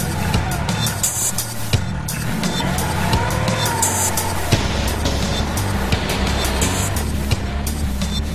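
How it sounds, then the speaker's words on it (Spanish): A Porsche 911 GT3 RS 4.0 with its six-cylinder boxer engine runs on a wet circuit, a loud, sustained engine roar with tire noise and shifting pitch, heard under faint background speech. "El motor boxer de 6 cilindros con 4 litros de cubicaje es el más grande montado jamás en un 911."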